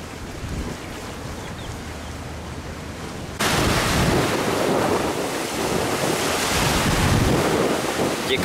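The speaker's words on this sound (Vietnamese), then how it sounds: "Sóng đánh quá mạnh." Strong ocean waves pound a small fishing boat out at sea, a steady loud roar of surf and wind noise that jumps even louder partway through, with no speech.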